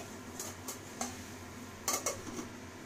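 A lid set onto a vegetable curry pot on a home stove gives a few light metallic clinks and taps, a couple of soft knocks early and then a brighter cluster of clatters, close but fairly quiet, with no talking.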